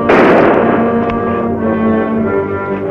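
A loud blast in a 1955 western film, opening with a sharp crack and booming into a long ringing tail that fills the rest of the moment, with no talk over it.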